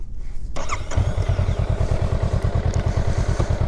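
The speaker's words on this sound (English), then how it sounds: "I'll start it up, let you hear it. This is completely stock." A stock 2023 Honda Rebel 500 SE cranks briefly and fires up, then settles into a loud, steady, rhythmic idle thumping close by with nothing else over it.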